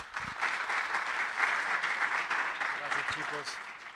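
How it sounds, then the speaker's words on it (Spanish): Audience applause at a literary tribute event in Cajamarca, steady broadband clapping sustained for about four seconds at moderate level, tapering slightly at the end, with faint voices underneath. "a quien recibimos con un fuerte aplauso"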